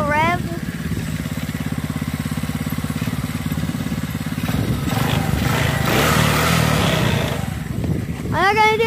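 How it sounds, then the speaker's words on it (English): A small motorcycle engine that is due for an oil change idles close by with a loud, steady putter. Brief revs rise near the end, and a person talks over it. "I want another little rev."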